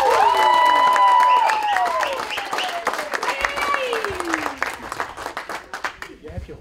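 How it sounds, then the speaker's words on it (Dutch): A stadium crowd applauds and cheers for a Belgian women's national football team player marking a milestone international cap after a Nations League qualifier; loud at first, then gradually thinning out, with whistles and voices mixed in. "Maar ongelooflijk applaus voor Linette."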